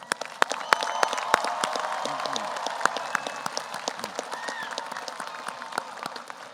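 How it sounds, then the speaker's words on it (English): A large outdoor crowd at a high school graduation ceremony in a stadium applauds, with dense scattered claps and occasional sharp near claps building into a steady round. "let's give a huge round of applause to your parents and your loved ones."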